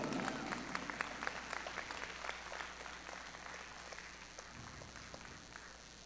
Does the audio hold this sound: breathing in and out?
no